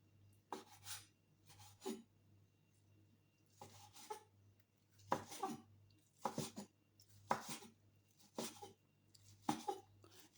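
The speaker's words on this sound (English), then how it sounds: "After that, I'll have to cut the bacon." Bacon being sliced for a heavy family breakfast, a string of short scraping cuts in irregular rhythm, close and fairly quiet, with a low steady hum beneath and no talking.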